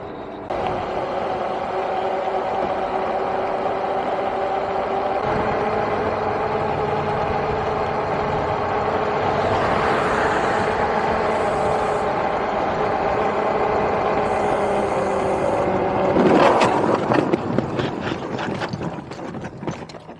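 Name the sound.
traffic noise riding onto the freeway on a Super73 e-bike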